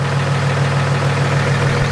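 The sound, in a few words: monster truck engine idling on top of iPhone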